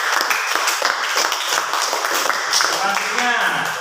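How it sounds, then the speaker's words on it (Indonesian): Classroom audience claps steadily for a student group after their presentation, a brisk, fairly close patter of many hands, with a few voices rising near the end. "Tepuk tangan untuk kelompok 1."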